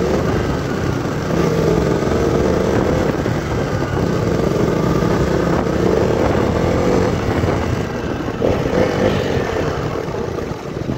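A KTM Duke 200 BS4 motorcycle runs with its exhaust droning steadily and loud, a continuous engine note with mild swells in pitch while riding and no talk over it.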